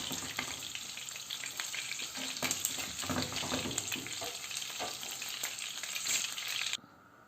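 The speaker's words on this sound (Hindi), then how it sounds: "जो बाकी पीसेस बैठ चुके हैं मैं उनको भी फ्राई कर लूँगी" Fish pieces frying in hot oil in a kadai for a fish bones curry, a dense crackling sizzle with bursts of bubbling and occasional utensil scrapes, steady and close until it cuts off abruptly near the end.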